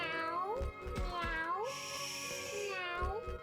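A cat meows repeatedly at close range, a series of rising and falling cries over a dense musical game soundtrack.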